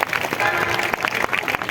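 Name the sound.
audience applause at a church gathering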